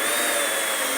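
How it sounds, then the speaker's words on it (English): A power drill bores a small hole in a Honda HRX217 NeXite lawn mower deck, a steady high-pitched whine running continuously and close up with no talking. "Drill a small hole."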